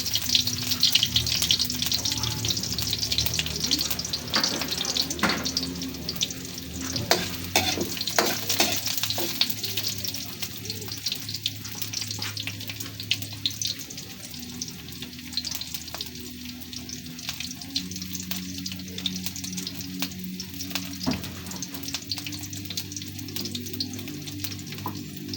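Garlic and onion sauté in a pan with a continuous crackling sizzle, broken by scattered spoon scrapes and clinks, and a faint watery trickle partway through.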